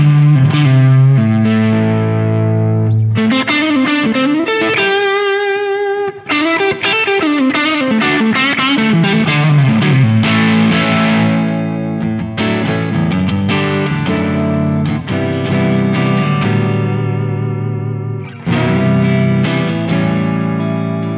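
Distorted electric guitar through an amp rig recorded silently, playing loud, sustained chords and melodic lead lines with steady, dense drive throughout, alone with no talking.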